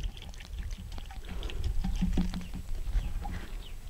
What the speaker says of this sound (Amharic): ይሄው እንግዲህ ውሃ እያርከፈከፍ እንግዲህ ደግሞ መቀጠል